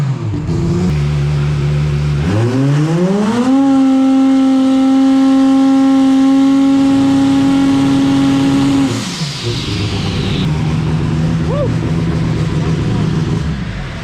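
A turbocharged engine being tuned on an ECU setup revs up and holds a high, steady drone, spooling the turbo. The pitch climbs, plateaus for several seconds, then drops back to idle. It is loud and close, with a faint whistle near the end.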